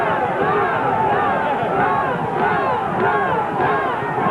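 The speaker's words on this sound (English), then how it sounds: "A fired-up cheering section from Fitchburg." A fired-up Fitchburg cheering section at a 1969 Thanksgiving high school football game against Leominster roars steadily, with crowd noise and shouting sustained throughout.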